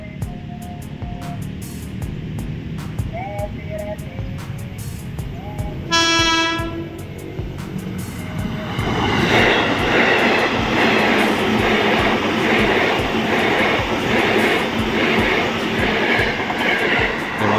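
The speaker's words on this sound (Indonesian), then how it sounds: "KRL Komuterland lagi baru saja diberangkatkan dari stasiun Cakung." A KRL Commuter Line electric train pulls out of Cakung station, sounding a loud two-tone horn blast before its motors whine and the wheels rumble louder and steadily as it gathers speed nearby.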